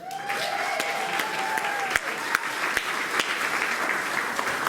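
Applause for cheerleaders at a school board meeting, a broad, sustained wash of clapping from a crowd in an indoor hall, with a few sharper individual claps and a brief whistle near the start.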